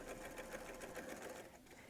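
A sewing machine stitches quilt binding along the trimmed quilt edge, giving a quiet, continuous mechanical whir with a fast, even stitching rhythm throughout.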